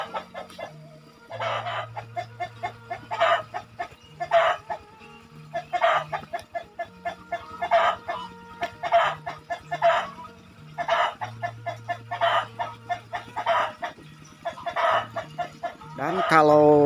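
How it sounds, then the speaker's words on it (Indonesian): Roosters crowing and hens clucking around a village in Cipari, Indonesia, with repeated crows rising every second or two over a steady bed of nearby chicken calls and faint bird chatter, no voices. "terdengar suara kokokan ayam dan terdengar juga suara burung"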